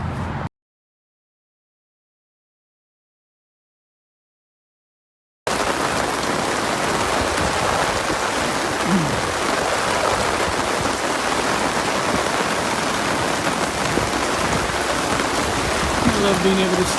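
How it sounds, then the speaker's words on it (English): Steady, dense rain falls close by for most of the clip after a silent opening stretch, an even wash of drops with soft voices faint in the background. "I love being able to stand up in the rain and not be cold."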